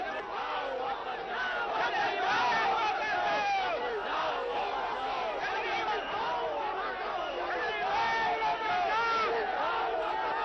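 A dense, agitated crowd shouts and chants around Arvind Kejriwal's convoy on a street in Varanasi, many overlapping voices forming a loud, continuous commotion with no pauses.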